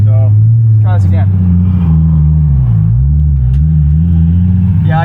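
Nissan 350Z drift car on a track, its engine droning loud and steady from inside the cabin, pitch rising and dipping with throttle, while a driver talks over the constant rumble.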